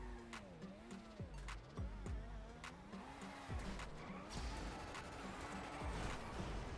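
A car driven in GTA Online: steady engine drone with shifting pitch, revs rising and falling, intermittent tire screeches and sharp knocks, fairly loud and continuous, no voices.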